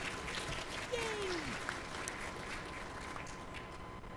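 A convention panel audience at PAX East 2012 applauds with a steady, moderately distant patter of clapping, while a single voice cheers briefly.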